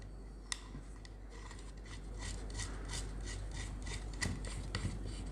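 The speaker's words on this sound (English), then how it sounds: "I'm just tightening it with the help of screwdriver and holding with my two fingers" A screwdriver tightens a nut onto a wooden batten on a small working model of a four-stroke engine, making faint, close, repeated scraping and rasping ticks over a steady low hum, with no talking.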